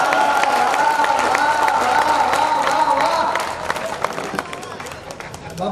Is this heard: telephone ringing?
no